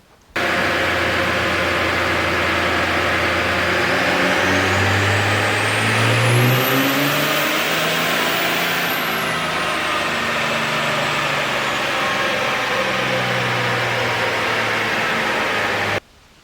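A vehicle fitted with a new cold air intake is run up on a chassis dyno, its engine revving loud and sustained for about fifteen seconds, the pitch climbing through the gears and then easing off.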